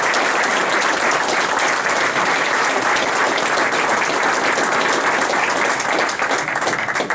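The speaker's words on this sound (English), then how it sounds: "Stand up, we give a round of applause" Sustained applause from an audience at a dedication ceremony honoring class of 1963 members, a dense, even wash of many hands clapping at once, loud and continuous with no talk over it.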